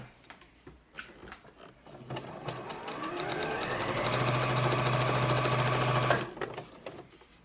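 A sewing machine stitching fabric gloves, a close rapid mechanical whir that ramps up and runs steadily for several seconds before stopping abruptly, with handling clicks around it.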